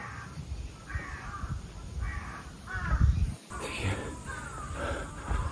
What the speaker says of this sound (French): Écoutez-moi les corbeaux.